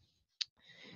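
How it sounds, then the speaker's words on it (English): A single sharp mouse click sounds once during a Windows virtual machine setup on a computer, quiet and close, followed by a soft background hiss. "we also need to click on Attach the Windows Guest Tool CD"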